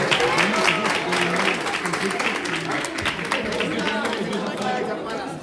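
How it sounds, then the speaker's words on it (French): Audience applause mixed with crowd chatter at a pastry event, steady clapping and voices blending together throughout at moderate volume. "Donc on peut applaudir Brexit"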